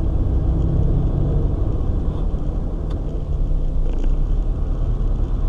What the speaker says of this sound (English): And this traffic every day.